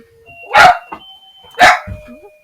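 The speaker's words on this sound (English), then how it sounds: "I'm so sorry, that's my dog." A dog nearby gives two loud, sharp barks about a second apart, each followed by a softer yelp, while a steady tone runs faintly in the background.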